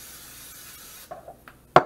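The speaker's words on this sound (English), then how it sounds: "usually spray the inside of my crust with cooking spray" Cooking spray is sprayed into a pie crust in a cast iron skillet, giving a soft, steady hiss that stops after about a second, followed by a few light handling knocks and one sharper clink.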